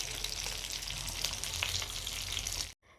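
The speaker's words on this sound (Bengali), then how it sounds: "মাছগুলো ভেজে নিয়েছি, এখন নামিয়ে নেব।" Fish frying in hot oil, a dense continuous sizzle and crackle close up, cutting off abruptly near the end.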